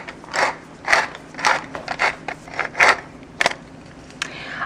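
A pepper mill grinds black pepper in short crunchy bursts, about a dozen quick twists in an uneven rhythm, close up and fairly loud with no talking.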